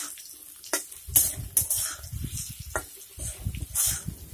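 Potatoes stir-fried in a pan with turmeric and salt, giving a soft sizzle with scraping and tossing clatter from stirring, moderately close, in uneven bursts.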